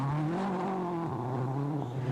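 A Peugeot rally car at Rally GB drives past with a strained, droning engine note that holds steady and then dips slightly, loud and fairly close, with no voices.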